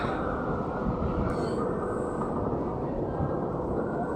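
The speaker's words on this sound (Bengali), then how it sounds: "প্রচুর ব্যস্ত মেট্রো স্টেশন।" A metro train at busy Kashmere Gate station in Delhi, a loud steady rumble of the carriages that fills the whole stretch, with a brief high squeal partway through.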